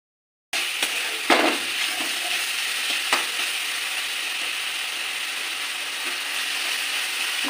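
Chowmein ingredients stir-fry in a pan over high heat on a Kolkata street-food style stove, a steady close sizzle with a few sharp scraping knocks of the spatula early on, no talk.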